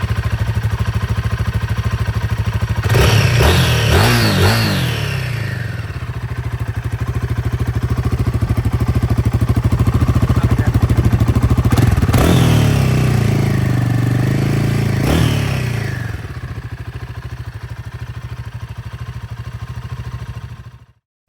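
A Triumph motorcycle at the Hinckley factory idling with a steady low thrum, then revved hard three times in rising, snarling bursts that fall back to idle before the engine cuts off.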